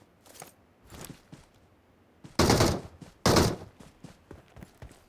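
Gunfire in PUBG comes as faint scattered shots early on, then two loud, close bursts of rapid fire, each lasting about half a second, with quieter thuds between them.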